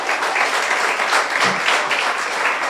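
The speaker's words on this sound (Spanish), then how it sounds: "Un aplauso fuerte, Señor." A church congregation bursts into loud, sustained applause at a Bible teaching session, many hands clapping densely and steadily throughout, close and full with no pauses.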